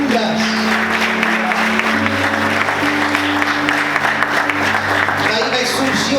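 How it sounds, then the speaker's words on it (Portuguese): A church congregation applauds steadily and loudly for several seconds, with sustained music and voices underneath the clapping. "Você pode aplaudir Jesus por isso?"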